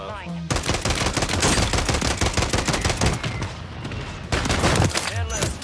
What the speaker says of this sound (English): See that new three-shot pistol.